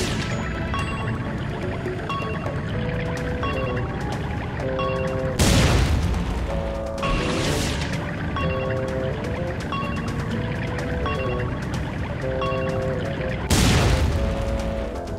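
Cannon blasts from the Flying Dutchman's ship in SpongeBob Battle for Bikini Bottom Rehydrated, two loud booms spaced several seconds apart over a steady game music track.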